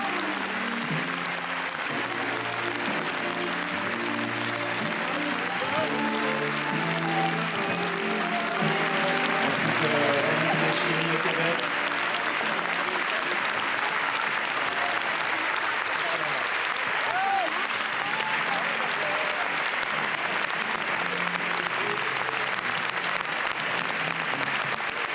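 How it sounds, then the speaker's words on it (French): Sustained applause fills the Grand Théâtre Lumière as the Saint Laurent film team enters for the Cannes 2014 screening. The dense, continuous clapping lasts throughout, and a voice speaks over it in the first half. "Applaudis au moment d'entrer dans la salle"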